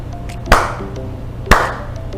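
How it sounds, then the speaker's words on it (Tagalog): Two sharp, distinct claps about a second apart, given as a counting exercise in a Grade 1 lesson, sounding over a steady background music bed. "Pumalakpak ng 2 beses."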